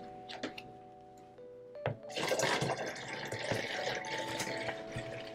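Tap water pouring into a half-full bottle of leftover fish tank water, starting after a couple of faint clicks and then running as a steady, close, bubbling gush.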